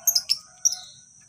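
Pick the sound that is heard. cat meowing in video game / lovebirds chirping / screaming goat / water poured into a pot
lovebirds chirping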